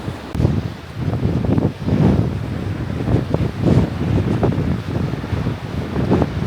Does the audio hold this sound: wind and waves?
yes